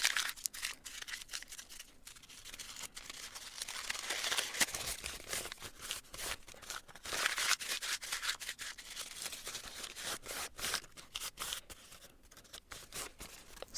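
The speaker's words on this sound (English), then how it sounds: "my favorite thing to do when I have a piece of paper like this is to crumple it." A sheet of journaling paper is crumpled by hand, giving a steady run of dry, crackling crinkles and rustles that continue close up for several seconds with no talking.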